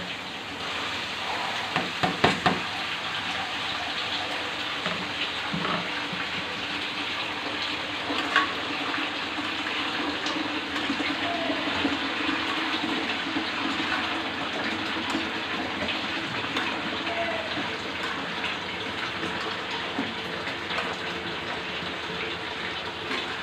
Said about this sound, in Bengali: আলু পেঁয়াজটাকে আমি হালকা ভেজে নিয়েছি মশলা সব এখন আলুটা দিয়ে দিব